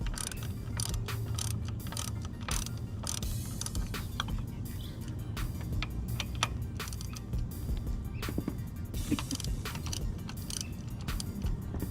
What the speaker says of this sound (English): Use the 15mm socket and ratchet to remove the two bolts.